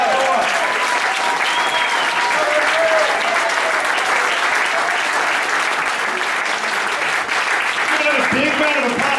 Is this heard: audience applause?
yes